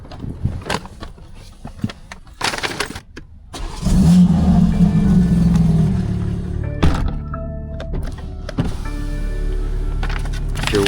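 A 750hp BMW M3 thumps and starts up, then its engine rumbles loudly and steadily while driving with the windows down, with scattered clicks and knocks before the drive and a continuous, close engine drone after.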